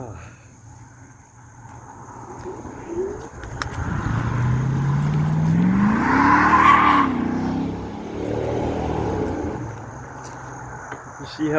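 A car drives past with a rising and falling engine note and a brief tire squeal, fairly close and loud for several seconds over steady outdoor background hum.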